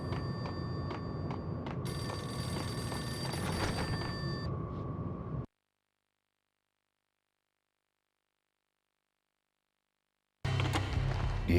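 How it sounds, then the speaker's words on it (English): A payphone in the Max Payne game rings with a bright electronic bell tone for several seconds amid low ambient hum, then drops into silence before background sound returns. "The payphone started to ring."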